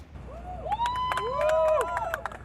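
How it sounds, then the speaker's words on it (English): Onlookers cheer and whoop after midnight as firefighters wheel a rescued pilot into a medic unit following a plane caught in power lines, a brief burst of crowd cheering with sharp voices and claps nearby. "Cheers from a crowd of onlookers just after midnight as firefighters wheeled the pilot into a medic unit"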